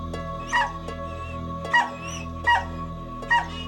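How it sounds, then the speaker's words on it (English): A dog lets out four short, high yips and whimpering barks at spaced intervals, loud and close over a steady droning musical tone. "Kim heard the dog barking"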